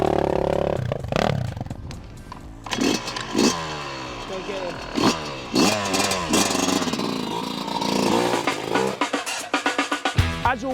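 Dirt bike engine on a motocross track, revving hard through repeated rising and falling blips that end in a rapid burst of throttle stabs, loud and close, with brief talk at the start.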